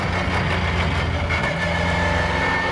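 A Vauxhall race car with a Quaife sequential gearbox runs with its engine close by, a loud, steady rumble with a droning mid-range tone and no voices.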